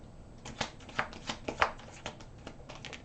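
Tarot cards being shuffled by hand, a quick run of papery riffling bursts and soft slaps, close and clear with no voices.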